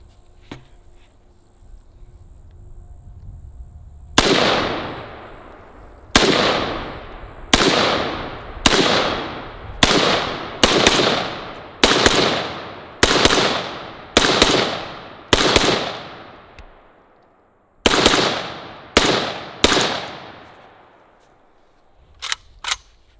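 An IDF SAR pistol fires about fifteen sharp, loud shots at a range, spaced irregularly with short gaps and a brief pause before a final quick pair.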